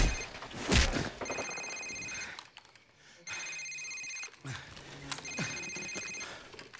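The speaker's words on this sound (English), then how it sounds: "Sir, it's his cell phone." In the Call of Duty 4 video game, a cell phone rings three times in a steady electronic pattern with short pauses between rings, starting after a thump and heard over a low ambient background.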